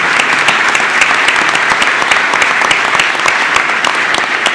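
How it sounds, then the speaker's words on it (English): A loud, dense round of applause at a school board meeting honoring students and teachers, continuous crowd clapping that holds steady throughout. "Let's give another round of applause to these exceptional students and teachers from Klein."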